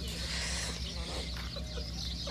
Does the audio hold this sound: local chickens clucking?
yes